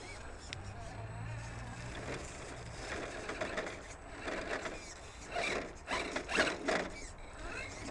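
Redcat Wendigo RC rock crawler with a budget brushed system and a 25 kg servo, clambering over rocks; whirring servo and drivetrain gear noise with crunching and scraping against stone, close up, while people talk.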